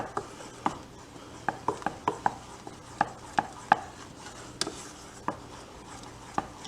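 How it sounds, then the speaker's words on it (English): A wooden spatula stirs melting chocolate in a bowl, producing a string of distinct, close knocks and scrapes at an uneven pace over a quiet background. "And just stir this till all the chocolate is melted and combined."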